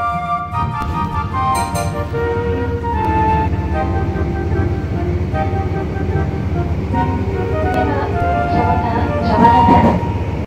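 A Meitetsu Bisai Line train rumbles steadily from inside a carriage, with a low continuous drone and shifting mechanical whine as it runs.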